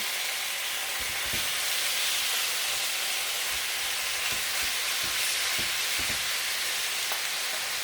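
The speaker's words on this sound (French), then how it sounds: "je vais mettre à cuire dans ma poêle" Garlic and herb filling cooks in olive oil in a frying pan, giving a loud, constant sizzle with occasional soft knocks and clinks of utensils against the pan.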